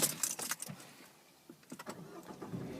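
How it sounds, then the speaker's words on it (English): A 2014 Citroen DS3 DStyle Plus with low mileage starts up close by: a quick clatter of keys, a short crank and the engine catching, with no voices. "No issues at all starting the car"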